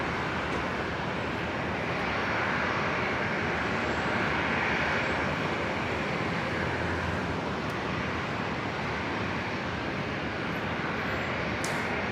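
A steady, broad roar of jet aircraft at Brisbane International Airport holds at constant loudness throughout, with no talk over it.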